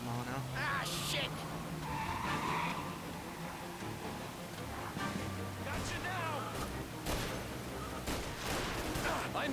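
A car in Mafia: Definitive Edition with the rev limiter capped at 45 mph, its engine droning steadily with tire squeals and gunfire-like bangs mixed in under continuous game noise.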